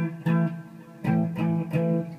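An inverted power chord, played without the low root, rings out on electric guitar as three strummed hits with distorted sustain, close and loud, with no talking.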